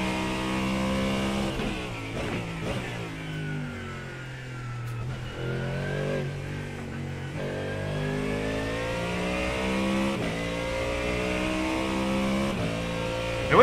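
A Mustang GT race car lapping Silverstone in a racing game, its engine revving loudly and continuously, pitch climbing through gears with quick shifts and dips, steady and close with no talk.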